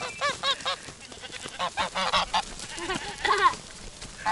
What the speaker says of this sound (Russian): Сейчас гуси полетят.